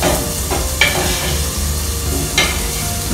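Food browning in a pan during healthy home cooking, a steady soft sizzle with a couple of brief scraping stir sounds, close and moderately loud with no talking.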